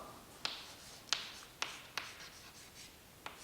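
Handwriting on a board or paper during a Sanskrit lesson: several short, crisp scratching strokes spaced about half a second apart, with pauses between, faint and close with no talk.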